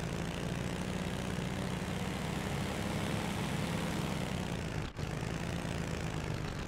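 A simulated car engine in an Unreal Engine vehicle demo drones in a loud, steady hum throughout, briefly dipping near the end before resuming.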